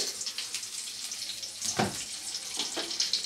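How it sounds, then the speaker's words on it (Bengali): Black cumin and slit green chilies fry in hot oil, a steady close hiss and crackle with occasional louder spits and stirring scrapes. "তো এবারে ফোড়নটাকে খুব ভালো করে একটু নেড়ে চেড়ে ভেজে নেব।"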